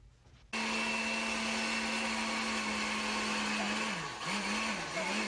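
A kitchen blender switches on abruptly and runs with a loud, steady motor whine close by, then dips and wavers in pitch near the end as the load shifts.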